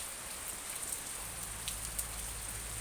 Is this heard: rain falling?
yes